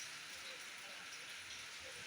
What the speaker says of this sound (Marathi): आणि पावसाला सुरुवात झाली बघू शकताय